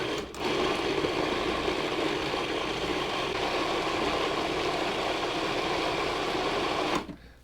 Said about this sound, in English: Start processing that. I just want to puree that up.